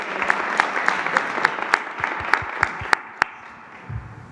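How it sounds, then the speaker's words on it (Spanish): Applause at a morning presidential press conference in Mexico, a sparse, rhythmic run of loud individual claps for about three seconds before it fades out, with a brief murmur at the end. "Un aplauso a Defensa"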